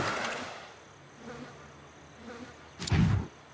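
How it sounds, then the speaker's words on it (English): Dragon bee enemies in a retro-styled fantasy RPG give off faint, wavering insect buzzes that rise and fall, ending in a louder, brief burst of buzzing. "Couple of, what, dragon bees?"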